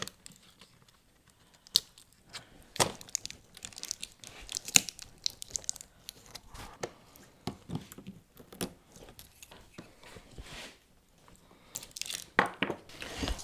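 A small plastic prying tool from a smartphone repair kit works apart a battery pack for an electric moped, giving scattered close crinkling, cracking and scraping snaps in irregular bursts with short pauses.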